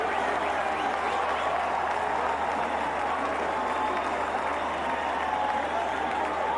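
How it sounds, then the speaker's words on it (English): Cricket crowd applauding and cheering after a wicket falls at an Australia versus West Indies one-day match, steady dense clapping and crowd roar throughout, loud and continuous with no break. "It's a big wicket. It's Michael Clarke, and the crowd's up on their feet."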